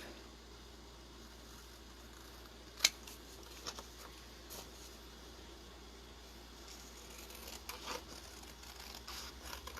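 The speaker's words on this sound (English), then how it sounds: "Now you're going to take some nice sharp scissors and trim around your envelope" Sharp scissors trim around a handmade paper envelope, giving quiet, scattered snips and paper rustles with one crisp louder cut early on, set against a faint steady hum in a still room.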